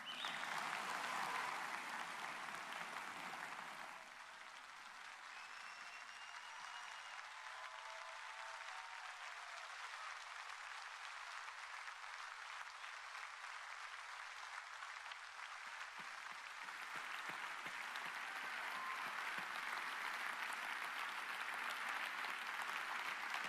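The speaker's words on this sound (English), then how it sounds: "One more round of applause for all of our speakers today" An event audience gives prolonged applause for speakers, a continuous, fairly distant wash of clapping that dips for a stretch in the middle before swelling again, lasting over twenty seconds.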